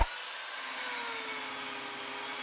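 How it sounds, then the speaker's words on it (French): An angle grinder works on a Cobra exhaust pipe for an MBK 40V AV7 moped, producing a steady, rough high whirring whine with a slowly falling tone over a couple of seconds, no voices over it. "Moi, je meule pendant qu'il referme le pot."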